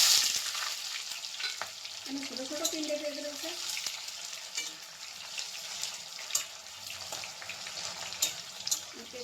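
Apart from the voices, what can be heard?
spice paste frying in oil with cumin and bay leaf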